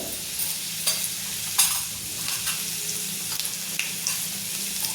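Garlic frying in hot oil as turmeric goes in: a steady, close sizzle with a few light clicks and taps of a spoon against the pan, no voices.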